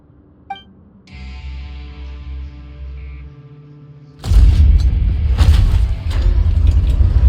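A sluice gate opening in a video game: a faint chime, then a low droning mechanical hum, breaking into a loud, close rumbling rush of water and grinding that continues to the end.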